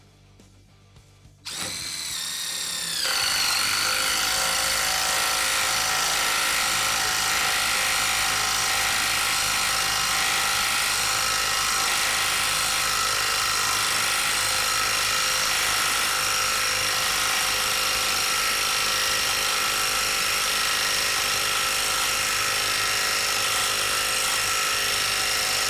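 A Dewalt DCF885 1/4-inch cordless impact driver drives a lag screw into a 4x4 without a pilot hole, starting after a quiet moment and then holding a loud, steady whining hammer for over twenty seconds with no talking.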